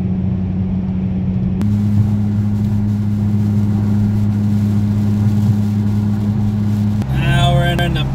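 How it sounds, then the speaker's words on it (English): A trash truck driving through backwoods, its engine giving a loud, continuous low drone that shifts pitch partway through, with a brief burst of other noise near the end. "All in a goddamn trash truck."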